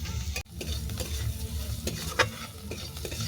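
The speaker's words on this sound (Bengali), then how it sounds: "আবার আমি এটাকে ভালো করে ভেজে নেব।" Vegetables — carrot, onion and chopped coriander — sizzle and crackle in a hot pan while being stirred, with a steady frying hiss and occasional scraping clinks, close and fairly loud with no voices.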